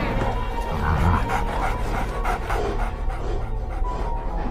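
Dogs pant heavily with short yips and growls in a dog fighting arena, a close, continuous, rough panting that stays loud throughout.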